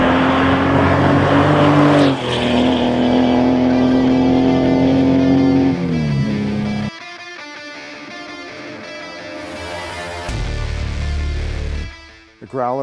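A hot-rodded 1990s Porsche 964 with a modified engine revs hard and pulls through several gear shifts, loud and close, then drops off and surges again before cutting out near the end.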